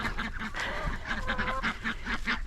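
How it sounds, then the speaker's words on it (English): Pekin ducks quacking in a steady, close chorus, repeated calls overlapping one another throughout at fairly loud level. "and our pekin ducks are here."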